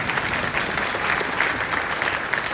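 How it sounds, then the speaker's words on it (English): A keynote audience at a large tech conference applauds. The clapping is dense and sustained at an even level, filling the hall with a steady wash throughout and no talking over it. "Now you can clap."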